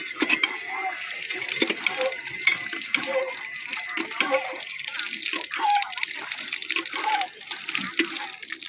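Water running from a tap into a container, a steady rushing pour heard close and continuous throughout, with faint background activity behind it.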